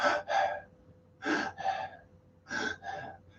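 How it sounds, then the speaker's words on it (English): Quick, shallow breaths drawn high in the chest, sounding as three close pairs of sharp gasping inhales and exhales with short pauses between the pairs, near and clear with no talking. "Most people breathe off the top third of the lungs. So their breathing looks like this."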